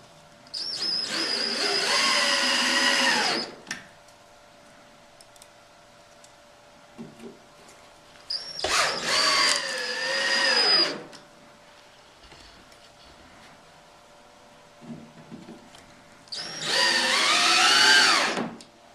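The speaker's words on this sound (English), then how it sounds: "secure the bunkie boards to the bed face around the perimeter using the 3/4 inch screws" A power drill drives 3/4 inch screws through bunkie boards into the perimeter of a wall bed frame, in three separate loud, close whirring bursts whose pitch climbs as each screw seats, with quiet pauses between.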